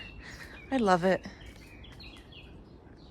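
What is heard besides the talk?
birds chirping in a backyard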